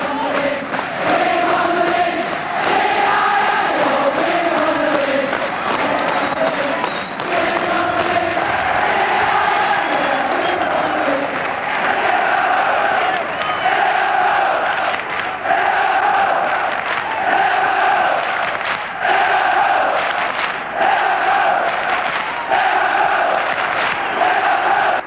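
A large Liverpool Kop crowd at Anfield chants and sings together, a loud sustained roar of massed voices with rising and falling sung phrases that carries on without pause for the whole stretch.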